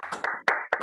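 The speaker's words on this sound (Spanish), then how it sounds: "Podemos aplaudir." Three quick bursts of clapping from a small group, close and brief, with short gaps between them and no speech.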